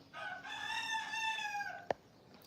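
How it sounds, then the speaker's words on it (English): Roosters crowing in one long, loud harmonic cock-a-doodle-doo close by, followed by a sharp knock, with no talking. "I know the roosters are kind of loud today."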